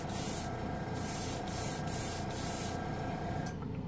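An airbrush sprays gold paint over red in repeated short hissing bursts, a steady spray broken by brief pauses, close and even, with a low hum underneath.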